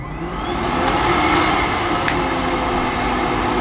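A Hoover Synthesis Activ cordless bagless cylinder vacuum cleaner runs on its minimum suction setting, a steady close motor whir and airflow hiss that holds evenly throughout.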